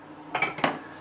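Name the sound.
cup being handled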